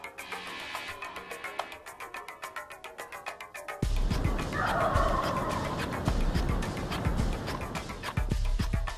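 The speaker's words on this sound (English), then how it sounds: "I've never heard that many birds gobbling at one time" Wild turkeys gobble repeatedly in a field during a hunt, a dense overlapping chorus of many birds that grows louder and fuller partway through, some calls close and others farther off.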